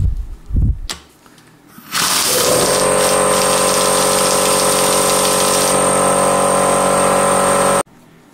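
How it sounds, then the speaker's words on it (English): A pneumatic air gun tightens bolts on a car engine stand in a home workshop: a few handling knocks, then a loud, steady hiss and whirr held for about six seconds before it cuts off abruptly, up close and without speech. "There is my air gun."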